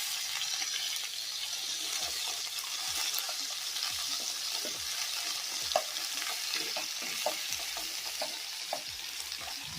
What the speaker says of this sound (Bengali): তেলের মধ্যে দিয়ে দিচ্ছি আগে থেকে বেটে রাখা আদা ও কাঁচা লঙ্কার পেস্ট